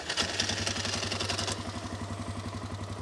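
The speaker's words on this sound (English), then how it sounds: "But engine sounds great compared to what it sounded like before." An older Yamaha Grizzly 600 ATV engine runs at a steady idle with a pulsing low mechanical throb and a brief rise in noise early on, close and continuous with no talk.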